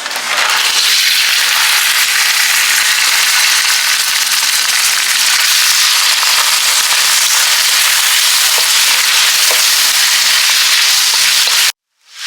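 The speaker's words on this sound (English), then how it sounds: "we actually need to make our fried rice in like high heat, extreme high heat" Fried rice sizzling hard in a pan over extreme high heat, a loud, dense, steady crackle that runs unbroken for about twelve seconds before cutting off abruptly.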